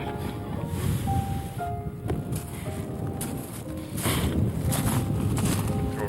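Strong gusts of wind rush and buffet outdoors, loud and continuous with swelling bursts, joined by rustling and a faint water-like wash.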